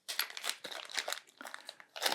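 A plastic bag crinkles and rustles close up in quick, uneven bursts as it is handled, quiet, with no talk.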